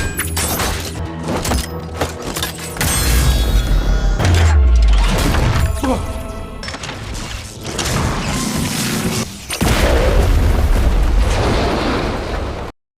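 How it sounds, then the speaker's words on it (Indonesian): In a monster survival film, a cannon shot destroys a car. Loud, booming blasts and crashing impacts fill the scene, layered with dense mechanical clatter and rumble, and no one speaks. "Akhirnya sebuah tembakan meriam menghancurkan mobil mereka yang menjadi tempat berlindungnya pensi."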